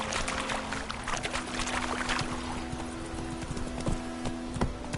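Horse hooves in The Witcher 3 video game, a quick rhythmic clip-clop of galloping under a low steady ambient hum and drone, no one talking.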